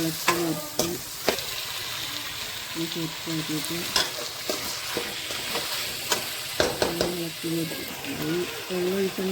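Drumstick pieces and tomato sizzle in a pan while being stirred with salt, a close steady frying hiss broken by repeated scraping, clacking strokes of the spoon against the pan, with a voice talking faintly underneath.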